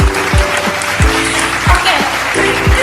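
A talkshow audience at a community health centre claps steadily, a broad wash of applause under a repeating rhythmic music beat with low thumps.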